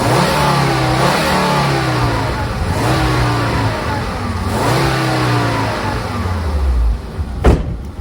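A 2.4-litre turbocharged car engine revs hard and repeatedly, rising and falling in pitch several times, loud and close, ending in a short sharp burst.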